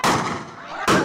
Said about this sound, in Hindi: फायरिंग की आवाज आप इस वीडियो में सुन सकते हैं।